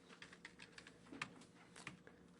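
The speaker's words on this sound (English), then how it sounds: "connect to your server just by typing in your server address" Close, clattering keystrokes on a computer keyboard as a server address is typed in, an irregular run of sharp clicks with a few louder taps, and no voices.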